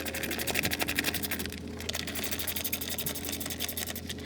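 A tool rapidly loosens two bolts holding the plastic engine cover on a 2007 Nissan Versa, producing a steady, close, fast rhythmic clicking buzz that runs through the whole stretch.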